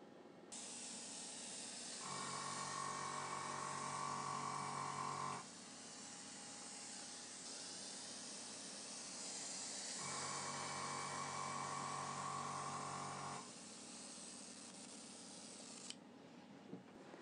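Airbrush spraying paint onto a model tarmac surface, a steady airy hiss running nearly continuously, with two louder, fuller bursts of spraying over it, quiet and close with no talk.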